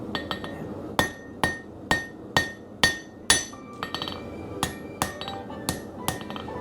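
Hammer forging arrowheads from 3/8 inch steel on an anvil, with a fast run of about a dozen sharp ringing metallic strikes, near and loud, some followed by lighter rebound taps.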